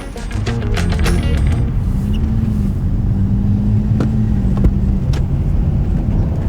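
Toyota Tacoma truck on a test drive, heard from inside as a steady loud engine and road rumble with a brief rise in engine tone, a few clicks and a snippet of talk early on.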